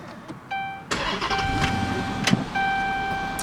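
A 2014 Dodge Charger police car's 5.7 V8 HEMI engine cranks and catches, rising into a steady idle, while a dashboard chime beeps repeatedly before and after.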